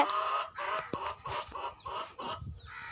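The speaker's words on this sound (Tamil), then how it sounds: "இந்த கோழியை தூக்கிறதுக்கு ரொம்ப பயமாக இருக்குது ஏன்னா கிட்ட போனாவே கொத்துது" A hen clucks close by in a run of short, repeated calls with brief pauses between them.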